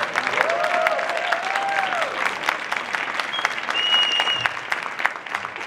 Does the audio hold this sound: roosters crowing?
no